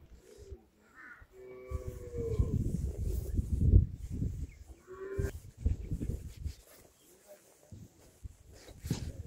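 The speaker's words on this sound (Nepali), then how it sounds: "ल गाई माताको पनि दर्शन गर्नुहोस् गौशालाको" Cows in a temple cowshed low several times, loud and close, among scattered crow caws and shuffling, with brief talk nearby.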